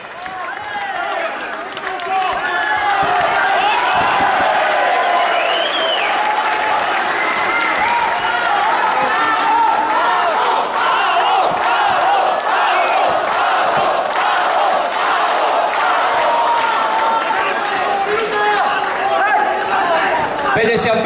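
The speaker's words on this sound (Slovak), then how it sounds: "Palo si zaslúži váš potlesk" A large crowd at a K-1 kickboxing fight in Poprad, Slovakia applauds and cheers loudly and continuously, with dense clapping and shouting that swells in after a quiet moment and holds for the rest, an announcer's voice mixed in.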